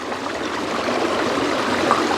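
Waterfall stream at a homestay in Chiang Dao, Chiang Mai, rushing steadily and evenly with a broad continuous wash of flowing water, close and moderately loud, no voices.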